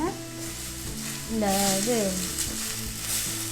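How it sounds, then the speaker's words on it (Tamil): Chopped banana stem sautés in a hot pan for a South Indian kootu, a steady close sizzle with stirring scrapes, while a person speaks briefly over it. "நறுக்குன வாழைத்தண்டை போட்டு வதக்கி"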